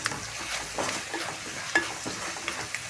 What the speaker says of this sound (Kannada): ಅದಕ್ಕೆ ಅದನ್ನು ಚೆನ್ನಾಗಿ ಫ್ರೈ ಮಾಡ್ಕೊಳ್ಳೋಣ.